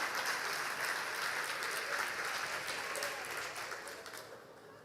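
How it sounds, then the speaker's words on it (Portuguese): A church congregation claps together in a steady, fairly distant round of applause that gradually thins and fades toward the end. "Pode bater palmas, irmãs estão doidos para bater palmas."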